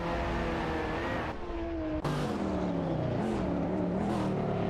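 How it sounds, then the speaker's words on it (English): Racing cars, including a Koenigsegg and a Bugatti, speed along a straight in a video game, with loud engine whines climbing and shifting pitch through gear changes, continuous and close. "It's always exciting watching those cars unleash their speed on the straight."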